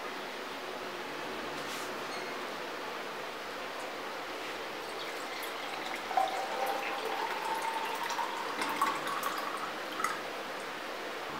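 Sugar-free lychee lemonade is poured out to serve, with a steady stream of liquid flowing and filling for over ten seconds, occasional small splashes and drips rising above the pour, and no talking.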